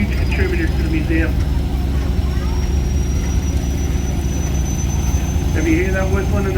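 A Jet Cadet's steady high whistle runs through a tractor and vehicle parade, riding over a loud, constant engine rumble while voices talk nearby.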